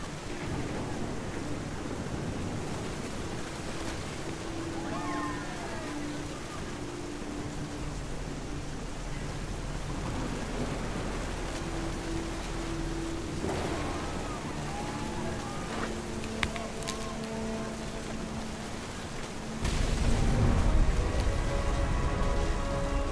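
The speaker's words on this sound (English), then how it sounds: "The thunder sounded much too close and full of angry power." Steady rain with rolling thunder, a continuous wash of rainfall broken by low rumbles and a louder, closer crack near the end.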